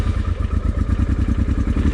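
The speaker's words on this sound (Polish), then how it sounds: "Wezmę motocykl, niech się rozgrzewa, przepchnę go." Loud, steady motorcycle engine running at close range, a rapid and even low thumping pulse with mechanical clatter and no other sounds.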